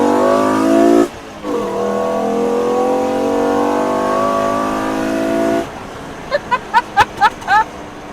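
A five-cylinder turbocharged MK2 street car pulls hard through a second-gear roll, its engine note climbing loudly for several seconds, then lifting off into a quick series of sharp pops and bangs.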